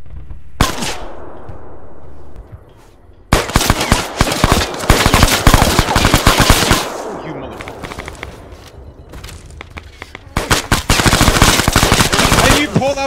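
Ammunition cooks off in a tactical shooter video game, rapid loud bursts of crackling gunfire and popping explosions in dense volleys, with a brief lull before the barrage resumes and continues to the end.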